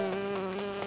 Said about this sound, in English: Oh no, it's a bee!